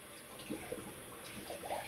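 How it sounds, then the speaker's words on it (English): Hot water runs steadily from a tap while a badger shaving brush is rinsed at the sink, a constant soft hiss with a few splashes and gurgles as the stream strikes the brush. "So I'm turning on the hot water again."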